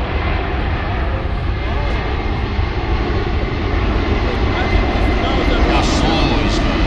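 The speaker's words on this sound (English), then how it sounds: "Listen as he adds the power, retracts the landing gear, the leading edge slats, and the power lift flaps, and executes a quick departure from Show Center" A C-17 Globemaster jet at an air show adds power and departs with a loud, continuous roar that stays dense and steady throughout, with crowd voices mixed underneath.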